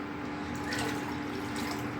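Water poured into a thick lentil mixture, a soft continuous pouring and trickling close by with no talk, for dal cooked on an induction cooktop.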